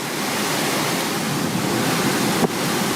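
A flash flood in Genoa sends water rushing through the streets after heavy rain and an overflowing river. The roar is steady and broadband, loud and continuous like a torrent, with a brief knock near the end.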